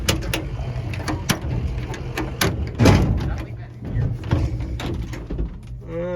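The cab door of an old International LoadStar grain truck is worked open and shut, with clunky latch and hinge mechanism noises, a heavy thud, and people talking nearby.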